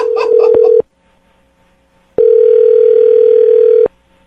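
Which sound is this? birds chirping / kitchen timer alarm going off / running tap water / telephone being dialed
telephone being dialed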